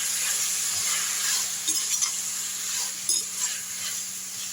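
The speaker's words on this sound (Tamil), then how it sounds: "தக்காளி எடுத்து போட்டுடலாம்." Tomatoes sautéing in a pan, a bright steady sizzle with a few soft stirring scrapes and light spatter, heard close with no voices.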